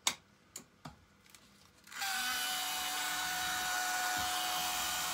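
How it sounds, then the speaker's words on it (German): A few sharp knocks come first, then a hair dryer switches on and runs loud and steady at close range while blowing on an old corroded wire taken from the ground, during restoration of a Roman inkwell. "Wir werden jetzt den Föhn dazu nehmen. Und jetzt wird es ein bisschen laut"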